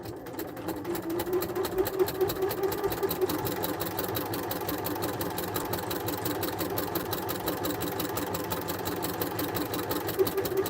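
A sewing machine runs steadily while stitching a patchwork duffle bag, a continuous rapid mechanical whir and needle patter that holds close and even for the whole stretch with no talk.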